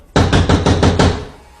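Loud, close knocking on a door during a tense confrontation, a quick run of about five heavy, evenly spaced blows, with no voices over it.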